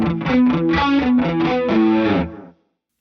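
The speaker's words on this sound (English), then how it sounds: "The last digital delay is the most interesting part of the character of this sound." Electric guitar run through a chain of vintage Boss pedals ending in a digital delay, a short burst of distorted, boxy-sounding chords played loud and steady for about two and a half seconds before cutting off.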